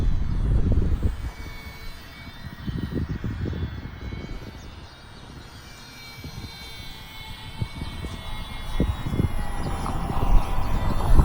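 A Parkzone Ultra Micro Spitfire Mk IX radio-controlled model plane flies overhead outdoors, its small electric motor buzzing steadily and rising and falling as it passes, with loud wind buffeting through much of the recording and no talking.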